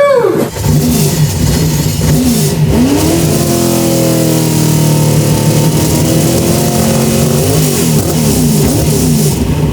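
A 25-year-old Ford Falcon V8 Supercar race car engine roars loudly and close, revving continuously, the pitch climbing and falling through several throttle blips, with no voices.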